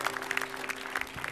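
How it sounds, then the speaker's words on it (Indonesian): A brief burst of dense applause from a television studio audience, steady clapping filling the moment without any talking. "Beri tepuk tangan dulu untuk para biang galau dan Nuri Maulida"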